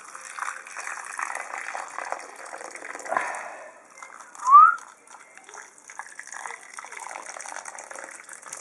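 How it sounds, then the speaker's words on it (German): Hot, slightly cooled water poured over a WWE wrestling figure's head and body during a head swap, a steady gushing pour with one brief squeaky chirp midway, fairly quiet and without talk. "heißes Wasser rauf"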